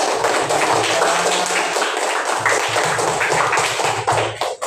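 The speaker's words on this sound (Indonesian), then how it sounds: "tepuk tangan dulu" Group applause at a university student presentation on pencil holders made from recycled materials, a dense continuous wash of clapping, loud and close, running for the whole stretch with a faint low murmur beneath.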